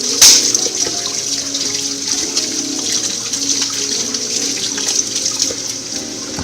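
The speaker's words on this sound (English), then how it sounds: "Now we're going to go ahead and wash our hands." Tap water runs steadily into a sink while hands are washed before prepping romaine, a continuous broad splashing rush that stays close and even throughout with no talking.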